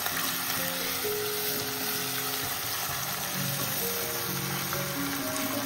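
Masala frying in a pan sizzles loudly and steadily as water from washing cut fish is poured in, a continuous close hiss with faint tonal hums beneath.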